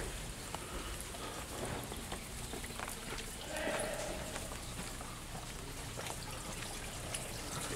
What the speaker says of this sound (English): It's raining like a bitch here today